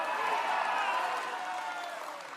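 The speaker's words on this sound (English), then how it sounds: "And his audience is cheering for this kind of language." An audience cheering and clapping in a played recording, a dense, steady crowd roar that eases off slightly toward the end.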